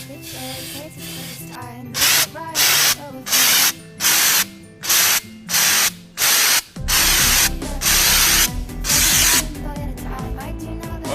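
A second coat of undercoat sprays onto a vehicle in loud repeated bursts, each about half a second long with short gaps between them, then a longer continuous spray toward the end.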